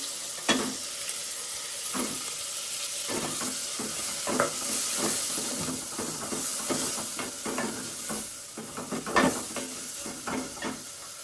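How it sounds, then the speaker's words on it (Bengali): Prawn pieces fry in a pan with a steady sizzle and hiss, broken by repeated scraping stirs of a spatula against the metal for about eleven seconds. "আমি চিংড়ি মাছের যে ইয়েগুলো দিয়েছি সবগুলো সুন্দর করে ভাজা ভাজা করে নিচ্ছি"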